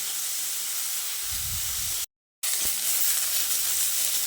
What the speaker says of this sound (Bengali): পেঁয়াজ, রসুন ও কাঁচা লঙ্কাটা ফোড়নের সঙ্গে বেশ কিছুক্ষণ ভেজে নিতে হবে